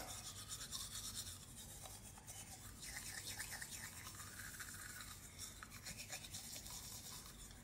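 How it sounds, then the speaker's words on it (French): Teeth brushed with a toothbrush using a fresh-tasting paste, a steady soft scrubbing and rasping that runs throughout, close and fairly faint, with low background rumble. "Et vous venez, vous lavez les dents avec."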